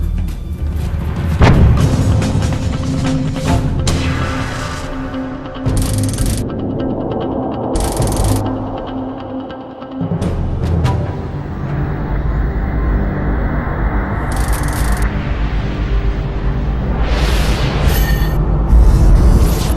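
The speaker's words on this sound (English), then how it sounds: "a different and rare type of eruption that acted like a giant cannon blast" Deep, sustained rumbling roar with repeated heavy booms and hissing bursts, loud and continuous like a massive blast, from a rare cannon-like volcanic eruption in the Cascades.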